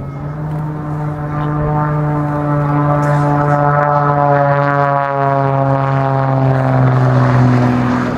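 An aerobatic kit-built propeller aircraft roars overhead at the Barossa Air Show 2021, a loud, sustained buzzing engine drone with a steady pitch that dips slightly as the plane passes and banks.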